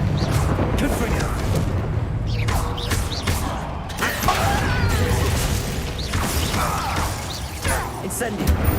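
Confringo fire-blast spell cast in Hogwarts Legacy, a run of booming, crashing magical impacts and rumbling bursts layered over continuous game music and effects, with a voice speaking at points.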